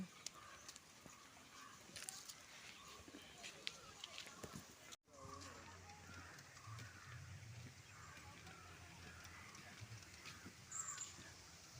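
Several crow caws ring out in the distance over an outdoor lakeside background, with people talking and light footsteps nearby.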